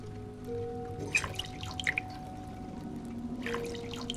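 Bubbles dripping in the Song of Horror horror video game: a few soft, separate liquid drips and plinks over a quiet hum, faint and spaced irregularly, with no talking.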